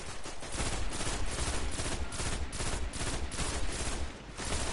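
A machine gun in a video game fires in long, dense bursts, loud and sustained, with only brief dips between volleys.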